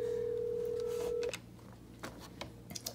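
A VoIP desk phone ringing with a steady electronic tone that holds for just over a second and then cuts off, leaving faint clicks and handling noises in a quiet room.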